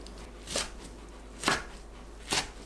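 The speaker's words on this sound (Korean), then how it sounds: "뭉친 부분 풀어서 3cm 간격으로 썰어줍니다" A kitchen knife chops blanched amaranth greens on a board into 3 cm pieces. Three soft, widely spaced cuts land about a second apart, quiet and close, with no talking.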